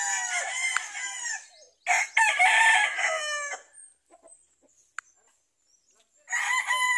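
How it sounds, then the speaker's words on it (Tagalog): Loud, close rooster crows and hen cackles come in long bursts, broken by a quiet gap with a sharp tap before the crowing resumes. "ang dami ng kanyang alagang manok"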